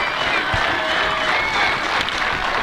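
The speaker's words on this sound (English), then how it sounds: "Crowd rising now for Travis Kuhn." A baseball crowd rises and cheers for the pitcher, a steady wash of applause and crowd noise at moderate distance that holds for a few seconds.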